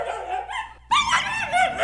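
A dog sound effect: a couple of close, clear barks and yips, with a brief silent gap between them and no other background.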